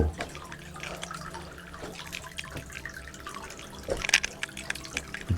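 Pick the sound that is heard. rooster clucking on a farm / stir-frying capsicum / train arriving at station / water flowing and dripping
water flowing and dripping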